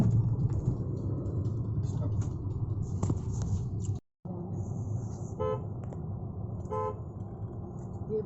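A vehicle horn gives two short honks a second or so apart over a low engine rumble and street noise.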